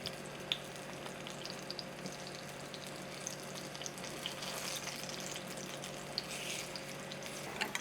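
Food fries in a pan as it browns toward a caramel color, giving a quiet, continuous sizzle with faint scattered pops and crackles and no voices.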